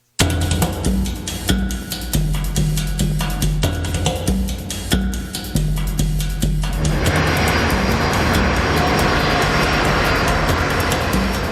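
Steady loud drone of a British Airways Boeing airliner's engines on a long-haul flight from Beijing to London, a continuous roar with repeated thumping pulses early on, then smoothing into a broad even rush.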